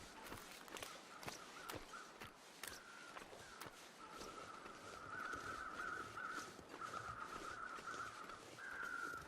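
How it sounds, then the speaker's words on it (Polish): Ravens caw repeatedly in The Long Dark's frozen wilderness, a run of harsh calls at a steady pace over faint crunching footsteps, moderately close and with no talking. "dwa kruki latają."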